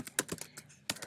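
Typing keywords on a computer keyboard, a quick uneven run of soft key clicks close by, with a short pause before a final burst.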